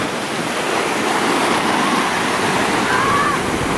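Mediterranean sea waves break on Cleopatra Beach in Alanya, Turkey, as a loud, steady roar of surf and wash with no pauses.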